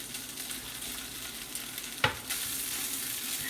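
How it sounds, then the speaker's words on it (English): Potatoes frying in olive oil in a pan over medium-high heat give a soft, steady sizzle, broken once partway through by a sharp clink. "we're gonna start with potatoes, like I said. And they're going to sizzle."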